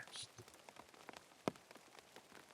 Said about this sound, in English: For now, just listen to the rain.